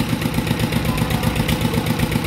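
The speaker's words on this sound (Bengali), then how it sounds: "আর মোটর চলছে এখনো, এই পাইপ দিয়ে জল বেরোচ্ছে।" An electric water pump motor runs steadily beside parked cars, a continuous mid-pitched mechanical hum with faint vibration while water flows through a pipe, close and fairly loud with no talking.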